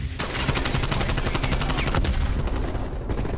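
Continuous automatic gunfire in Call of Duty Black Ops Cold War, loud and dense rapid shots from an AK-74u or KSP 45 filling the whole stretch, with overlapping bursts and no pause.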